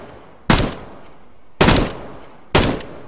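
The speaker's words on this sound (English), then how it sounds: "Taking shots." Three loud, evenly spaced gunshots in the video game Arma 3, each a sharp close crack with a short tail, separated by about a second of quiet.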